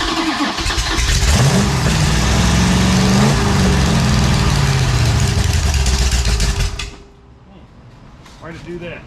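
A freshly rebuilt 440 Six-Pack V8 runs loud and rough for about seven seconds with uneven revving, then cuts out abruptly, leaving quiet rustling and a brief later sound.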